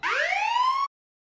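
A siren at a village cricket tournament sounds for a no-ball, one loud rising electronic wail lasting under a second and then cutting off abruptly into silence.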